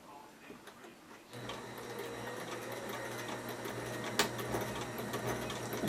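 A sewing machine stitching PhiferTex sling chair fabric during reupholstery: a steady mechanical whir and rapid needle chatter kicks in after a moment and runs continuously, close-up and fairly loud.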